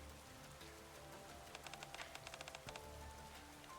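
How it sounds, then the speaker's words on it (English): Steady soft rain patters in the video game Goddess of Victory: NIKKE, a faint continuous hiss with a short run of distinct drip-like taps in the middle. "It's raining, it's raining."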